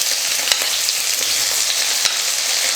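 Two large onions, sliced lengthwise, fry in a pan for a spicy mango and brinjal kuzhambu, giving a steady, dense sizzle with a few soft clicks of stirring and no talking.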